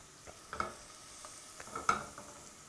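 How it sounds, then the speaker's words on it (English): Minced garlic sizzling in olive oil in a pan, stirred a couple of times: a soft steady hiss with two brief scraping stirs, close and fairly quiet. "move the garlic around a little bit in the olive oil, like so"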